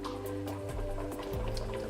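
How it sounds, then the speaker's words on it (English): A pot of water bubbles on the heat to melt candle wax, with soft steady bubbling and occasional pops over a low continuous hum, close by and fairly quiet. "the sound that you're hearing is our pot bubbling away in the background"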